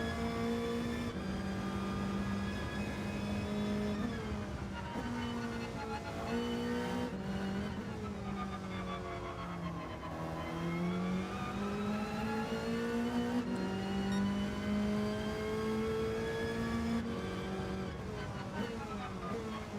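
Racing car engine in the video game Gran Turismo 7, a loud continuous whine that rises and falls through repeated gear changes and revs, with faint tyre squeal.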